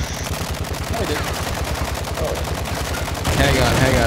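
Rapid automatic gunfire from a Call of Duty Modern Warfare 2 match, a dense run of loud repeated shots with a sharper burst near the end, with faint voices mixed underneath.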